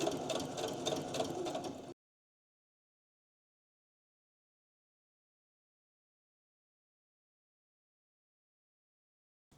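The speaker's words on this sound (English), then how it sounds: "I'm going to start stitching from the bottom of the slide because that's the straightest part of it" A sewing machine runs steadily, stitching around the edge of a fabric slide page for a playtime storybook. It makes a close, loud whir for about two seconds before cutting off into silence.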